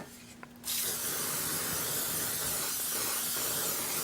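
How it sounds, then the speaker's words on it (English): A can of hairspray sprays onto a paper page in one continuous, close hiss that begins abruptly after a short quiet moment and holds steady at full strength to the end. "Now I'll spray this with some hairspray."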